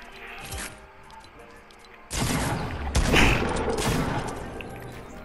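Gunfire bursts ring out in a Fortnite match, a short volley early on, then louder rapid shots and impacts building over the last few seconds, with players talking over it.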